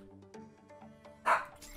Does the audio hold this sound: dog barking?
yes